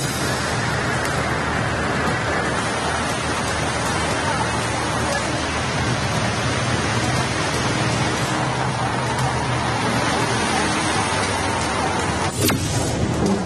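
Torrential monsoon rain pours down in Mangaluru, a dense, steady roar that stays loud and unbroken from start to finish with no voices.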